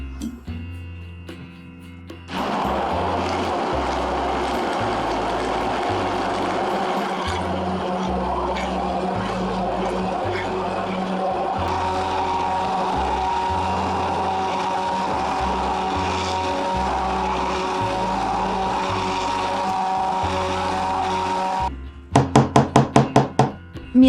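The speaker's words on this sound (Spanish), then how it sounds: "lo mixeas bien hasta que quede una salsa homogénea" A hand blender or food processor whirs steadily for about twenty seconds while blending bravas sauce until smooth, loud and close, with a rhythmic pulsing underneath and no talk.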